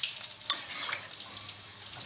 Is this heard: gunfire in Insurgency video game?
no